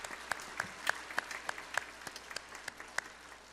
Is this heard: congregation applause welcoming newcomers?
yes